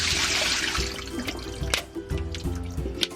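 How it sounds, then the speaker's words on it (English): Water pouring and dripping as green beans are drained in a kitchen sink for a green bean salad, a steady rush that settles into scattered splashes and drips nearby, with no talk. "let's just drain our green bean"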